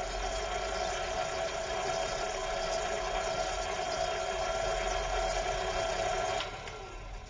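A food processor whirs chocolate cookie crumbs, cocoa and butter into damp crumbs for a cheesecake base, a steady mid-pitched motor hum running throughout before dropping off near the end.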